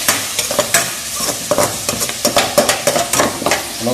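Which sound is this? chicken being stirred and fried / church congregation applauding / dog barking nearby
chicken being stirred and fried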